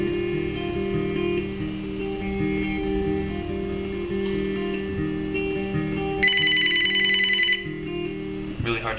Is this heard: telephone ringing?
yes